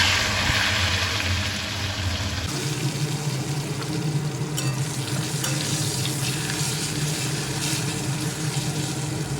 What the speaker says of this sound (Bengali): বেগুন লম্বা লম্বা করে কেটে লবণ হলুদ মেখে এই যে কড়াইতে ভোলা মাছ ভেজে তুলে নেওয়ার পর যে তেল রয়েছে এই তেলে ভেজে নেবে